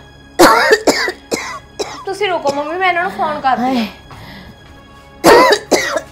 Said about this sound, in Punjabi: ਦਵਾਈ ਤਾਂ ਲਈ ਸੀ ਪੁੱਤਾਂ, ਪਤਾ ਨਹੀਂ ਇੰਨੀ ਖੰਘ ਜੀ ਕਿਉਂ ਆਈ ਜਾਂਦੀ।